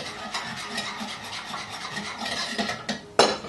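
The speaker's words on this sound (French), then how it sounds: "Voilà, et vous mélangez à nouveau." Almond cream being stirred with agave syrup in a vegan kitchen, a steady close scraping and rubbing of a spoon against the bowl that runs continuously, ending in a brief louder knock.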